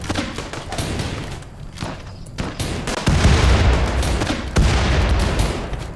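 Rapid bursts of gunfire and heavy booms in the colony-survival game RimWorld, loud and continuous, with thumping impacts that swell stronger midway.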